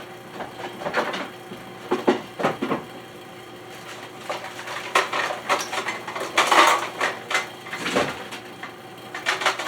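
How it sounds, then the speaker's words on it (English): Metal baking pans for banana bread are pulled out and handled in a home kitchen, giving intermittent clanks, scrapes and rattles in irregular bursts, close and moderately loud. "I forgot to get the pans out."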